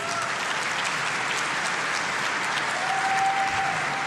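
A convention audience at a live game developer stream claps steadily throughout, a dense wash of applause that stays even in loudness from start to finish.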